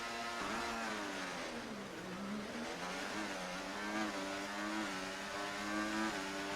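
Race cars rev hard at the start of a race at Shanghai International Circuit, a loud, continuous engine roar that rises and falls in pitch as several cars accelerate together, with no voices.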